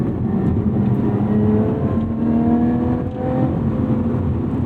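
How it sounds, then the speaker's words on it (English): A 2018 Lotus Evora 400's V6 engine revs hard with its exhaust valves open, its loud, droning note sweeping upward through the gears with a brief dip between pulls, heard from inside the car without talk. "What a fantastic sounding V6."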